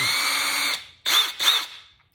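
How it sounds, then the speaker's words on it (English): A power drill with a Forstner bit bores a hole in wood for a home climbing wall: a steady high whine that stops, then two short bursts, close and fairly loud, with no voices. "which requires a steady hand and a lot of drill power because they're slow, but they cut a nice little hole"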